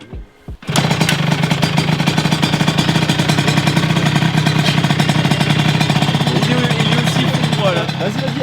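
A Derbi DRD 70 2Fast motorcycle engine fires up after a brief stutter and settles into a loud, steady, rattly two-stroke idle, heard up close, with voices speaking over it.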